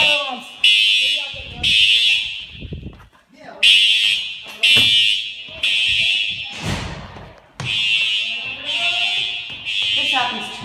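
A school fire alarm system sounds in loud repeating bursts, each a sustained high electronic tone separated by short gaps, while people talk over it nearby.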